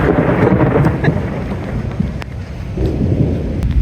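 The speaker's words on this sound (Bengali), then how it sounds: "শুধুমাত্র বৃষ্টি না, শুধুমাত্র বাতাস না, বজ্রপাত হচ্ছিল" A thunderstorm with heavy rain and wind: a dense, loud, steady wash of rain and gusts with a sharp crack of thunder, close and continuous throughout.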